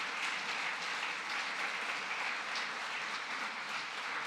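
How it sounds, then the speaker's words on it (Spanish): A congregation at a church service applauds for a brother who helped, producing a soft, even rush of clapping at a distance with no single claps standing out. "un aplauso para el hermano que me apoyó el día de hoy"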